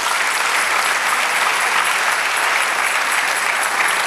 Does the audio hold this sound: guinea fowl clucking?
no